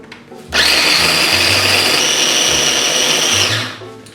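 An electric grinder chews acorns into coarse flour: a loud, steady high-pitched whine starts abruptly and holds for about three seconds before tapering off, close and alone with no talk.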